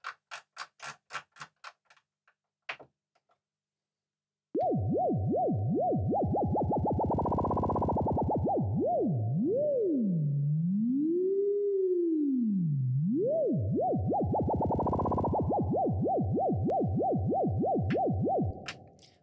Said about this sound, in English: And let's set the LFO to the pitch again.